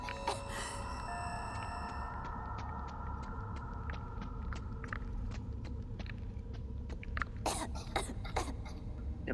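A girl character in the video game DreadOut 2 coughs repeatedly in sharp, irregular bursts, quiet against a steady low background drone, with no talking.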